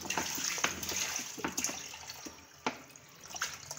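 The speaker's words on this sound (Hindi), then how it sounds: "मैं पानी डाल देती हूँ" Water poured from a tap into a cooking pot of beef trotters for paya, a steady close splashing stream with a few sharper drips and splashes, no talking.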